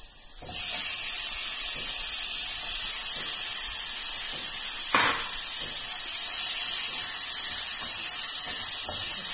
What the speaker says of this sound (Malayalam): ഞാൻ ചിക്കൻ ഇട്ട് കൊടുക്കുന്നു.